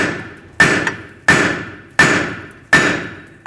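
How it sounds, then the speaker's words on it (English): Four sharp metallic hammer strikes on a flat punch against brake screws of a 2011-2014 Hyundai Sonata, evenly spaced and ringing briefly after each blow, close and loud. "Take a punch, a flat punch, and just hammer them, give them a couple taps."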